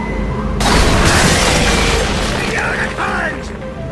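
A booming cannon shot in the video game Tales of Monkey Island, one loud blast followed by a rolling rumble, with voice-like sounds toward the end.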